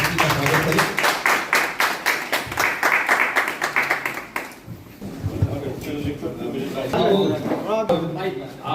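Audience clapping in rhythmic, fairly loud bursts to welcome a guest at a local gathering, lasting about four seconds before stopping abruptly; people then talk over a busy room.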